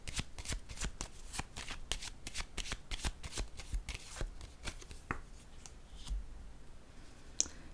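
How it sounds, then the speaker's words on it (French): Tarot cards shuffled with a rapid run of crisp riffling snaps and slaps, then a few slower, separate taps as cards are laid down on a surface, close and fairly quiet with no talking. "Je vais déposer encore une carte ici."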